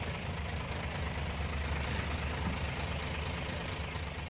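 A Suzuki Wagon R 4x4 non-turbo with an automatic transmission idles nearby in a steady, even low rumble that holds throughout and then cuts off abruptly at the end, with no talking.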